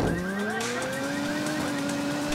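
A convoy of vehicles in Ghost Recon Wildlands rolls past with a loud, steady engine roar and gliding, whining tones that rise over it, with no talking.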